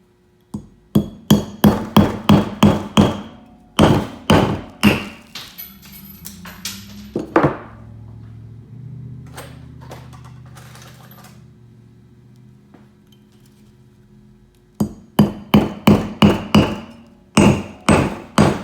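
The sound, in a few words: hammering in a fluted nail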